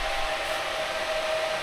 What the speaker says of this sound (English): You can hear the fans all cut in.